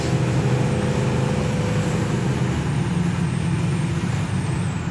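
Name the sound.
1967 Impala SS 396 engine under transmission kick-down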